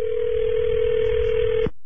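A telephone line for a prank call holds a steady dial tone for almost two seconds, clear and close, then cuts off abruptly with a click.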